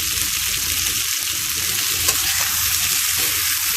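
Ginger paste sautés in a pan for poli fish curry with a drumstick vegetable, a steady, close hiss and sizzle with faint stirring scrapes and no talk.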